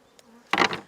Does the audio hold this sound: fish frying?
no